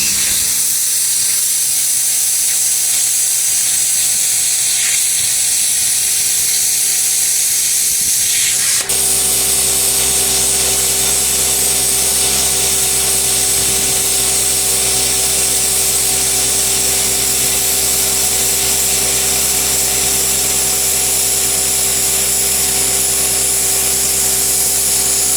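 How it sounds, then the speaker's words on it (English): A plasma cutter slices angle iron for table trusses, a loud, steady hiss that starts partway through and then runs unbroken to the end, with no talking. "I need to cut up some angle iron to make the trusses, so I'm going to do that with a plasma cutter"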